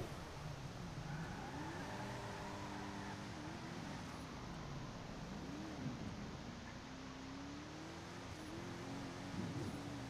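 A car in the FiveM game drives off, its engine droning steadily with shifting pitch as it accelerates, faint and continuous over a constant background noise.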